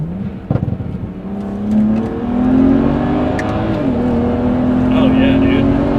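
A car with a stage 2 tune pulls hard from the driver's seat, its engine note climbing steadily as it accelerates, loud and continuous with brief talk early on.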